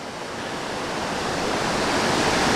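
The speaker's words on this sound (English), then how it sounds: "It's just pounding water. Just down, down, down." At a campground, a waterfall pounds down with a dense, steady rushing roar that swells slightly louder over the short stretch, with no voices.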